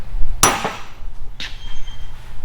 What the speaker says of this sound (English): as long as we center punch those in the right spots now